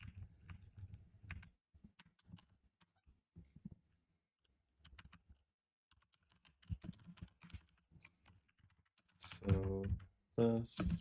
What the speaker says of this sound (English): Sorry, I'm typing stuff you guys can't even see.